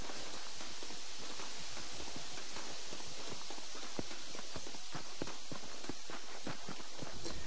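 Horse hooves clip-clop in the video game Red Dead Redemption, a steady rhythmic run of close, distinct hoof strikes over a constant low background hum.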